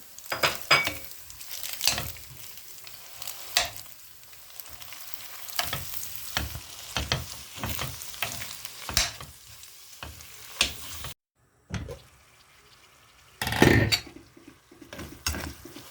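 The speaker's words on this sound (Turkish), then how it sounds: "İyice etim kavrulduktan sonra şu an 150 gram tereyağımı katıyorum" Minced meat frying in a pan as 150 grams of butter go in, a steady close sizzle broken by frequent spoon scrapes and metallic clinks against the pan, with a brief drop to near-silence partway through.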